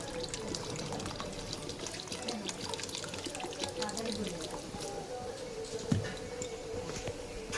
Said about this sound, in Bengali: আর একটু জল দিই